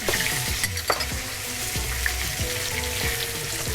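Food coated in chili kimchi paste sizzles steadily in a hot pan, with a continuous crackling fry and occasional sharper pops and stirring scrapes, close and loud with no talking.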